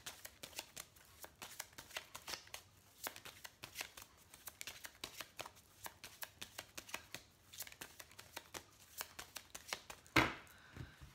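Oracle cards being shuffled by hand, a quiet, rapid riffle of crisp paper snaps in irregular bursts, close up, with a brief louder knock near the end.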